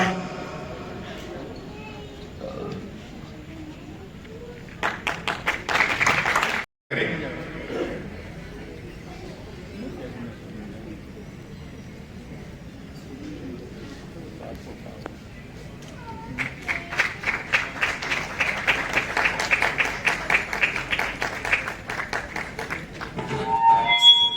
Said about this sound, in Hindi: तालियां होती रहनी चाहिए, तालियां एक बार जोर तक